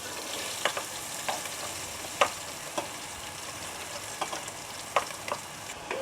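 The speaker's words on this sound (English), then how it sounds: "Melted the butter first, and then we put in the leek." Leek sautés in melted butter in a soup pot, a soft, even sizzle broken by brief clicks and scrapes of stirring, close by and without talk.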